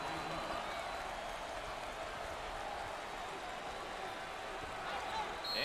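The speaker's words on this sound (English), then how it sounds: "Standing ovation" A crowd at an NCAA tournament basketball game rises in a standing ovation, steady distant applause and cheering filling the arena, with a commentator's voice over it.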